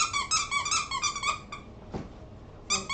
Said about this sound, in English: There is also squeaker inside.